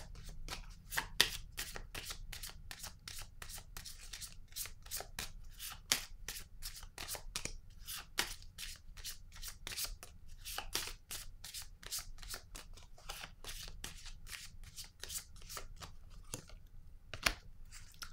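Tarot cards are shuffled by hand, a rapid stream of crisp close flicks and riffles that repeat steadily for the whole stretch, quiet and alone with no talk.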